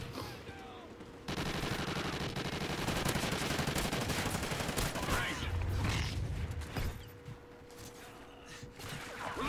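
Minigun firing in the video game Call of Duty Ghosts: a quiet start, then a long unbroken rattle of rapid fire for most of the clip, fairly faint overall, with occasional breathy vocal sounds over it.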